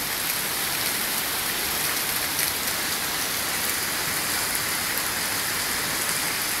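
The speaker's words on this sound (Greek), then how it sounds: "Βρέχει, ψυχαλίζει τώρα." Continuous rainfall at Palaia Panagia, Greece, a thick uniform patter of drops holding level throughout, nearby and with no talk over it.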